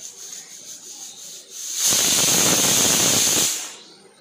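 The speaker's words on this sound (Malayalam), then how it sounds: "നമ്മൾ അത് ഗ്യാസിൻ്റെ മേലെ വെച്ചിട്ട് വിസിലടിപ്പിച്ചിട്ട്" A pressure cooker whistle on a gas stove: a sharp, loud hiss of escaping steam bursts out for about a second and a half, then cuts off, with a high whistling tone over it.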